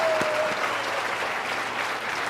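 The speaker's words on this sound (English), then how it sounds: "big round of applause" A crowd applauds steadily, a dense wash of clapping at even volume throughout.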